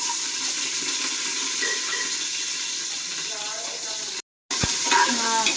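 Chopped onions sizzle and fry steadily in a hot pan, a broad continuous crackle with a short break of silence near the end before the frying resumes.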